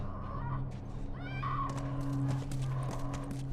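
A horse whinnies and snorts in the video game The Last of Us amid a low steady hum, with faint hoof clatter and other animal noises in the background.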